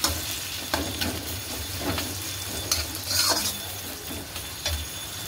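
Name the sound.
chopped onions frying and being stirred in a pan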